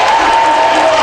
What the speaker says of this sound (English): Crowd's up, going wild.